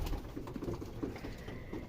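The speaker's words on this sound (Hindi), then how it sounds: "तो जैसे ही इनको दाना डाला है तो कबूतर भी नीचे की तरफ आ गए" Pigeons softly cooing near a cage as they come down to feed on scattered grain, faint and low against a quiet background of rustling.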